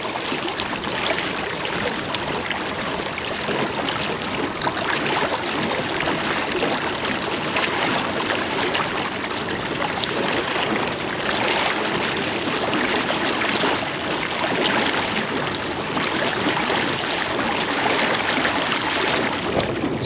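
Epropulsion Spirit 1.0 Plus electric outboard motor at higher revs on a boat, heard as a steady, dense rushing wash of water and hull noise without pauses, fairly loud and unchanging throughout.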